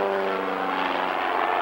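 An aerobatic propeller airplane at an airshow hangs on its propeller, giving a brief, steady, droning engine tone with a strained buzzing edge, heard from a distance.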